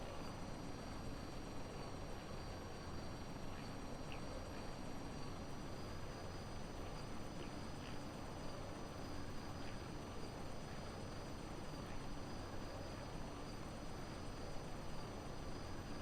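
A propeller aircraft's rotors in Kerbal Space Program produce a continuous, even drone with a thin steady whine on top, holding level throughout with no breaks.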